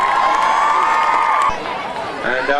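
A loud crowd at a high school homecoming game cheers and yells, sustained shouting voices dominating before easing off, then picking up again briefly at the end.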